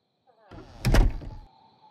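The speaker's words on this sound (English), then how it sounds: "I'm being nice and closing the doors." A door in a house is closed, a muffled thud with a short rattle, heard once against a quiet room with a faint background hum.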